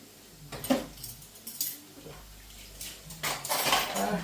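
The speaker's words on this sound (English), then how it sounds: "I've got a few pots in the sink, get them washed" Pots are washed in a kitchen sink, with pans knocking, metal clinking and water sloshing in a steady close-up stream of scrubbing and handling, getting busier toward the end, without speech.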